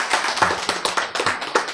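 An audience at a lecture claps in a short burst, with sharp, distinct hand claps landing in an uneven rhythm, close and fairly loud.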